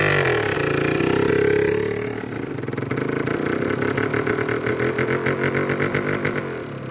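A newly bought vehicle's engine idles nearby with a steady low rumble, beginning loud and then settling into a rhythmic, pulsing chug that continues throughout.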